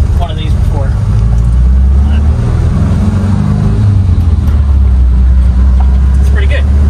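Volkswagen-Porsche car with an engine swap on a test drive: a steady, low engine drone and road rumble that fills the cabin, with people talking over it.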